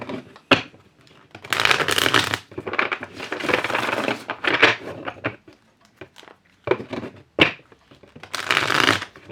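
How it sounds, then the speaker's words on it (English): Tarot cards being shuffled in quick repeated riffling bursts, close and crisp, separated by short pauses, with no talking. "One last shuffle for Gemini."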